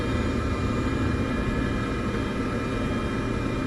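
Steady, dense aircraft engine roar during the takeoff roll in Microsoft Flight Simulator 2024, a constant loud drone with no pauses or talk.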